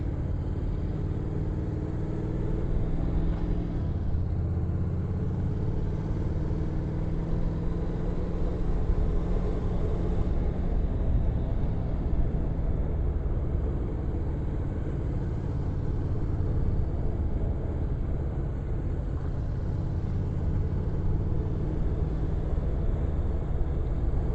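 A Honda NC motorcycle engine held in third gear on a narrow, twisty mountain pass road, a steady low droning hum at moderate volume, running continuously with only slight changes in pitch and no talking.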